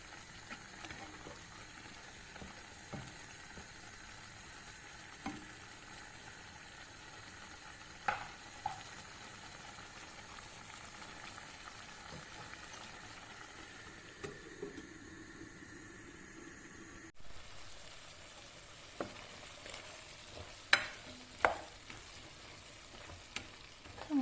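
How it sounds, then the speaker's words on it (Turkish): Liver pieces cook in a pan to evaporate their released juices, giving a soft, continuous sizzle with occasional stirring clinks and scrapes, fairly faint and close. "ciğerler bayağı bir sulandı. İyice suyunu çekene kadar pişirelim."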